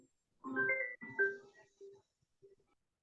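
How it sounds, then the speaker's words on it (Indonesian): A phone ringtone plays during a Zoom business meeting, a short melodic electronic tune with a few sustained notes and then brief trailing beeps, fairly close and alone with no talk over it. "Sebentar, ini ada telepon masuk."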